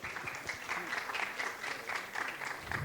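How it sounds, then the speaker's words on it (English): Audience applause in a conference hall during a marketing talk: steady, dense clapping from a crowd that holds at an even level for about three seconds. "Can I hear an applause?"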